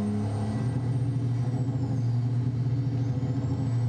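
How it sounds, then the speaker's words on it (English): A Kenworth W900 truck engine in American Truck Simulator drones loudly and steadily at the rev limiter, a constant buzzing roar with a faint high whine, alone with no talk. "if I don't shift in time, this has a rev limiter, so I'll let you hear it"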